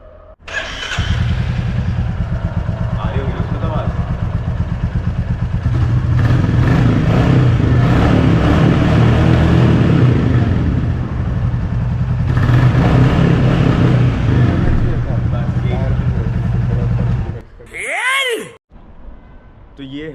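A teenager's motorcycle engine runs steadily and revs, loud and close for most of the stretch with voices underneath, then cuts off near the end.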